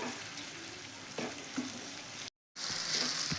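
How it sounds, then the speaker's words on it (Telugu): Tomato pieces with a little turmeric fry in oil for a cauliflower egg curry, giving a steady, soft sizzling hiss that drops out briefly and then resumes. "టమాటా ముక్కలు కొద్దిగా ఆయిల్లో ఫ్రై అయితే సరిపోతుంది"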